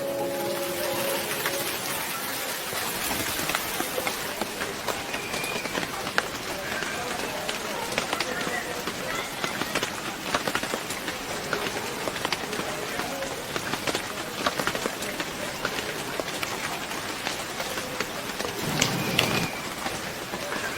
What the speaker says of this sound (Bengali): কি যে বৃষ্টি শুরু হয়েছে না স্যার